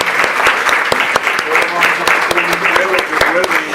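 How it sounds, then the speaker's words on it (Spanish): Loud applause from an audience at an educational technology round-table event, many hands clapping in a dense rhythmic patter with sharper individual claps standing out, and a voice speaking faintly underneath. "le vamos a despedirlo con un aplauso"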